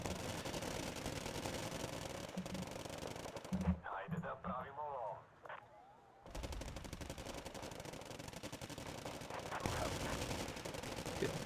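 Sustained rapid gunfire and battlefield rattle from the real-time strategy game Wargame: Red Dragon, loud and dense, breaking off for a few seconds with scattered lighter shots before resuming at full intensity.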